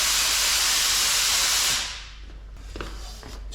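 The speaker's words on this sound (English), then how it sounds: "Just turn the compressor off quickly so it doesn't interrupt our time together." A workshop air compressor in an auto paint repair shop roars with a loud, steady hiss, then cuts off abruptly, leaving faint room noise and small clatters.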